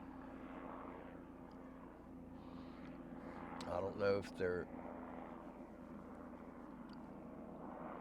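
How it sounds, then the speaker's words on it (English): A helicopter passes overhead at a rural property, a low, steady rotor drone that swells briefly as it goes over, heard under a person talking. "There's a helicopter going over again."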